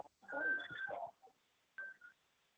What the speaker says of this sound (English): Oh, it's somebody's phone, it looks like.